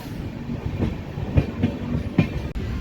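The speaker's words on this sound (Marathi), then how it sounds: "केम रेल्वे स्टेशनवरून आपली ट्रेन निघालेली आहे" Harangul–Pune special fare superfast express train pulling out of Kem railway station, with a steady rolling rumble broken by a few rhythmic wheel clacks over rail joints, heard from on board.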